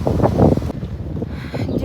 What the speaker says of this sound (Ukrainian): вітер віє, завиває прям